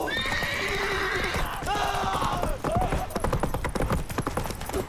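Geralt's horse Roach from The Witcher 3 whinnies loudly twice, long wavering neighs, then breaks into a rapid run of close hoofbeats, with brief voices and battle noise mixed underneath.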